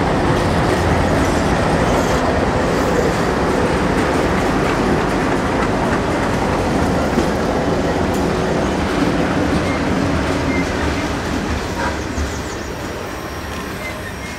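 A locomotive hauling one railroad car passes near a rail yard tower, with a loud continuous rumble of wheels on rails, clicking joints and some wheel squeal that fades slightly toward the end.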